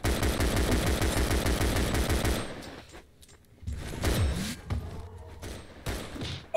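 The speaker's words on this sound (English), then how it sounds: "I think he had a shotgun." Rapid video game gunfire, likely a shotgun, fills the first two seconds with a dense, loud volley of shots. Scattered, quieter game sounds and thumps follow.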